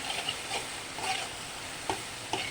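Spice paste for a fish head curry, with Kashmiri chilli, frying in oil, giving a soft steady sizzle with a few brief stirring scrapes, close and fairly quiet with no talking.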